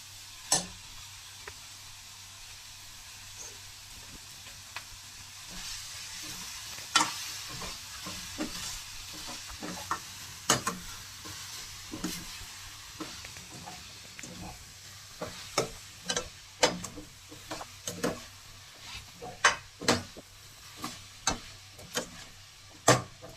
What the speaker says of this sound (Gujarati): હવે આપણે આ 1 બાઉલ પાલક સુધારીને રાખી છે ઝીણી એ નાખશું।